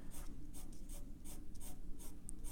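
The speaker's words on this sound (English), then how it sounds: "I'm going to cross over my other lines going in a different direction" A 2B pencil cross-hatching lines on paper, with a steady series of quick, close scratchy strokes in an even rhythm, close and fairly quiet, with no voices.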